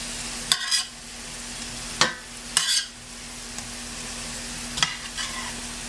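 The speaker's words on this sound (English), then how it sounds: "So I'm going to turn them over and again cover them with the lid and continue cooking" Burgers (kotleti) cooking in a lidded pan on the stove, with a steady low sizzle and a few sharp bursts of scraping and stirring as they are turned.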